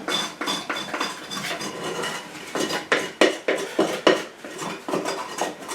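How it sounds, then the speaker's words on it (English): A mixing bowl used for kneading bread dough is scraped and cleaned, producing repeated clattering knocks and scraping of a utensil against the bowl in an irregular rhythm, close and fairly loud. "I just want to clean that bowl out"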